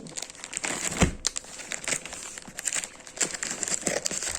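Small plastic packets from an AliExpress haul crinkle and crackle as they are torn open, irregular close rustling bursts with no talking.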